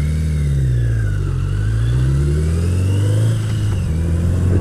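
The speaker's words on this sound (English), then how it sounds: "it seems to pick up some engine static when I'm idling and at low speed" Motorcycle engine idling and pulling at low speed, picked up by a handlebar-mounted action camera mic, a loud close drone with its pitch gently rising and falling, no voices.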